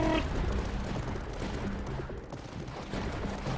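An anti-air gunner unit firing in a tower defense video game: steady rattling bursts of gunfire layered with booms and game effects, moderately loud and continuous, with no voices.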